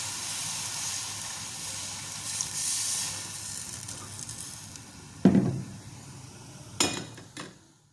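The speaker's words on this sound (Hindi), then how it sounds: "अब ऑरेंज जूस डालेंगे हम।" Orange juice poured into a hot pot for matar pulao gives a brief hissing sizzle, followed by a few sharp metallic clanks of utensils against the pot, with no talk.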